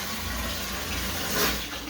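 Tap water gushing steadily as air is purged from new plumbing, a constant hiss and splash with a brief swell near the end.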